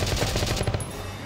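Rapid gunfire from the video game Valkyria Chronicles, a loud burst of repeated shots for about a second that then gives way to quieter game sound.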